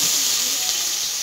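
Salt and garlic seasoning dropped into hot fat in a pan at home, giving a loud, steady sizzling hiss that fills the whole short moment without any voices.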